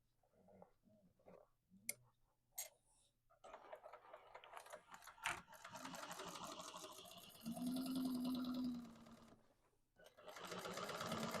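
A sewing machine runs a lengthened strengthening stitch on an Isabella tote, starting after scattered clicks and handling noises, then whirring steadily in a couple of sustained bursts close by with a brief pause between.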